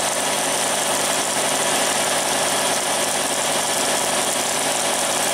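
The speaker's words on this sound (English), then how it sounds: "Taking a 16th here with the 50 millimeter face mill at 10 inches per minute at 3000" A milling machine takes a face cut with a 50 mm face mill spinning at 3000 RPM through metal stock, giving a steady, loud, broadband machining roar that holds unchanged throughout.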